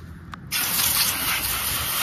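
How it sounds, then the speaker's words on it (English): A brief quiet moment, then a strong, continuous hiss of water spraying onto a car wheel and tire starts abruptly and holds steady, close and loud. "We're gonna spray it off."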